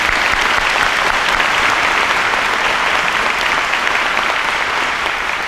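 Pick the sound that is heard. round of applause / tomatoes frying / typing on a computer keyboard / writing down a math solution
round of applause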